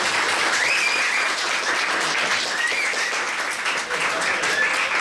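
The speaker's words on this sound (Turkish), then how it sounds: "Arkadaşımızı kocaman bir alkışlayalım." A school report-card ceremony in Mardin, where a crowd gives a student a big round of applause, dense steady clapping sustained throughout, with faint voices and a few brief cheers rising over it.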